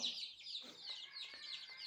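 A crowd of about thirty young chicks cheeps continuously in high, overlapping peeps, close and fairly busy, with faint soft taps underneath.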